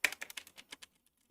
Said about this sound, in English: Super loud keys. I think they're browns.